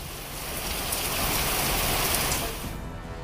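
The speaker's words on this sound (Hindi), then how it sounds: "जमकर हुई बारिश।" Heavy rain pours steadily in a dense, loud hiss that swells and holds, then eases slightly toward the end; no voices.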